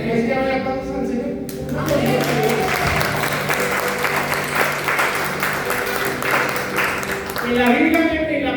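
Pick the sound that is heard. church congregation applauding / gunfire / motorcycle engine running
church congregation applauding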